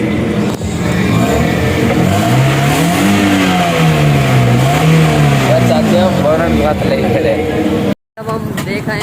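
A Toyota Corolla GLi engine revving at a workshop, pitch climbing and falling in repeated sweeps, loud and close, with one brief cut near the end.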